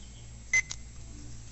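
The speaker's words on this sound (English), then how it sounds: "and we're going to start the timer" A kitchen timer is started in a garage while coffee roasting in a popcorn popper gets underway, giving one short, sharp electronic beep followed by a fainter click, then near silence.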